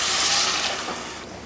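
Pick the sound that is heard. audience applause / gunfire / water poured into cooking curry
water poured into cooking curry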